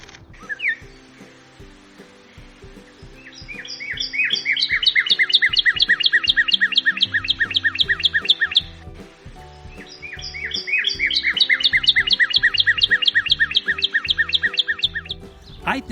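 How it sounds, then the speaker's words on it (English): A northern cardinal sings in a backyard, two clear runs of repeated bright whistled notes each lasting several seconds, close and loud with faint background noise between. "There's a northern cardinal."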